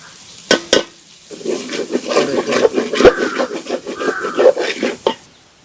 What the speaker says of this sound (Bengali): মশলা কষানো হয়েছে